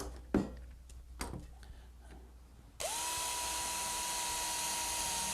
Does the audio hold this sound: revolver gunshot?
no